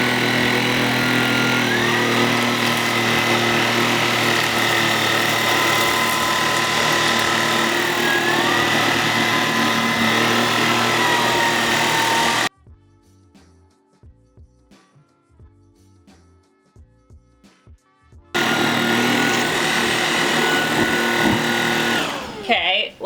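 A Tineco Pure One S15 Flex cordless vacuum cleaner drones loudly and steadily on carpet for about twelve seconds, falls silent, then starts up again. A person talks over and between the runs.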